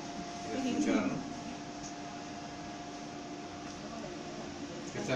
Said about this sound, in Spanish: El ventilador.